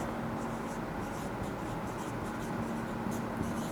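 A hand writes an equation during a math class, a steady, soft scratching of pen or chalk that runs unbroken and close, with no voice over it.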